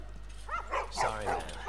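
Dogs in The Last of Us give a few short yips and barks close by, with soft whimpering between them over a low steady hum.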